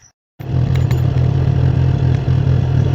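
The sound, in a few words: motorcycle riding on a dirt road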